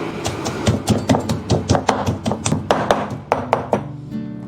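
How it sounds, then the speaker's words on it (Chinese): A kitchen knife chops pork foreleg into small pieces on a cutting board, a close, steady series of sharp thunks at a brisk even rhythm, heard alone. "这一块前腿肉，我们先给它改刀一下，然后再切成小块"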